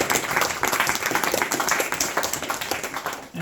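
A small group gives a round of applause at a Bhagavad Gita study gathering, with brisk continuous clapping held at an even level throughout.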